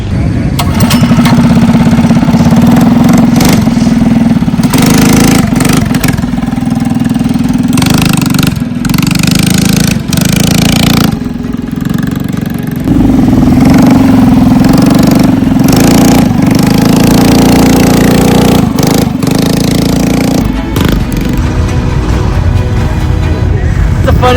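A mini bike with a bad carburetor runs loudly up close, its small engine buzzing continuously with repeated throttle blips that rise and fall in pitch, with people talking over it.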